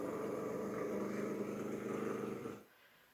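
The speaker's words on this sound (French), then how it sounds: "des bruits de moteur à quatre temps" A four-stroke combustion engine idling and running with a steady, rough low throb and mechanical rattle, close and continuous before cutting off abruptly near the end.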